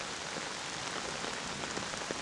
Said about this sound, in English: As you can hear, it's still thundering and raining.